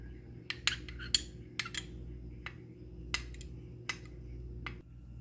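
A spoon stirring blue liquid food colouring into neutral cake-decorating gel in a small bowl: a string of sharp, irregular clinks and taps against the dish, close and fairly quiet, over a low steady hum.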